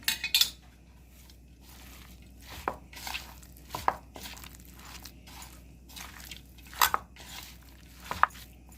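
Chicken momo filling being mixed by hand with salt and pepper powder in a bowl, giving scattered soft squishy pats and light clinks at an irregular pace, fairly quiet throughout.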